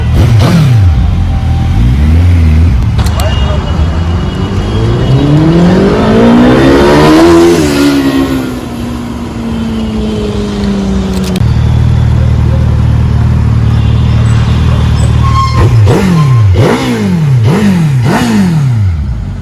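A Suzuki Hayabusa superbike engine revs loudly and close, with repeated rising and falling throttle blips and a sustained high-rev run between them.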